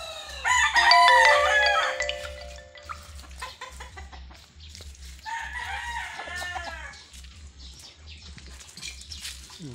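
A rooster crows loudly near the start, followed by hens clucking and more crowing calls, with a steady low mechanical hum underneath.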